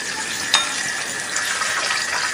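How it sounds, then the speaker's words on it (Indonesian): Milkfish frying in hot oil in a home kitchen, a steady bright sizzle with crackling all through and one sharp pop near the start, with no one talking. "Kita goreng sampai nanti mateng."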